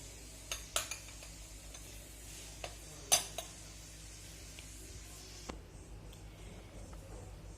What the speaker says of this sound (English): Now let's toss all these together.